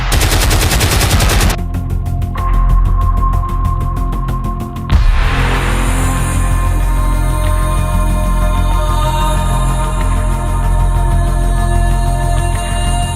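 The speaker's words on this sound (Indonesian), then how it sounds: "kota Malang dihujani bom dan tembakan mitralyur oleh pesawat terbang Belanda" Rapid machine-gun bursts rattle loudly and continuously, with a heavy blast partway through and sustained roaring noise of combat afterward, as Dutch aircraft bomb and strafe the city of Malang in 1947.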